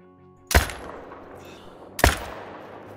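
Two loud rifle shots fired at a deer in theHunter: Call of the Wild, spaced about a second and a half apart, each a sharp crack with a short decaying tail over faint game ambience.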